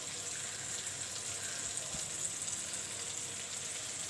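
Tamarind water poured into a pot of cooked daal, a steady wash of liquid pouring and bubbling at close range, continuous and even for several seconds with no voices.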